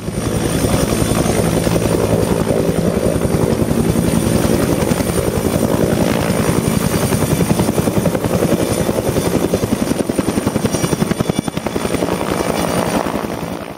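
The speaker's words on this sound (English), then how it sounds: "a cargo net that will be attached to a hovering helicopter" A helicopter hovers over a dinosaur fossil quarry, its rotor thumping steadily with a rapid, pulsing beat and engine whine, loud and close throughout, with no talking.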